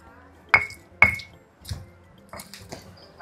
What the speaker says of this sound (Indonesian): Kalau sudah, kita lanjut ulek ya teman-teman